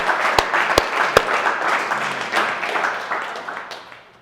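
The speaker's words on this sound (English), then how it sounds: "And then Justina, give her a round of applause too." A team at a company all-hands update applauds a colleague: a few sharp, distinct claps stand out early, then a softer, looser patter of clapping that gradually fades away, with no talking.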